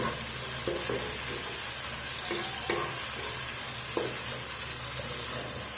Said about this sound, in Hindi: अभी इसमें टमाटर ऐड कर लेंगे हम लोग। अभी इसको भी अच्छा से फ्राई कर लेंगे।